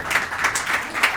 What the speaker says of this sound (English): Let's give these guys a round of applause, please.